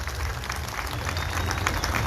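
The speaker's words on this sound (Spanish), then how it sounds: "pido un fuerte aplauso en representación de la belleza migueleña" A crowd at a carnival opening ceremony for the San Miguel festivities applauds in a continuous, even roar of clapping, loud and without a break.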